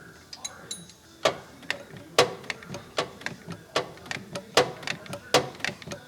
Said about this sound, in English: I'm going to go down there with my ratchet now, rather than the electric one, and start plugging away at it